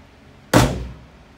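A Ford Mustang S550 drift car's door, on an LS-swapped build, shuts with a single solid, close thunk that rings briefly and fades.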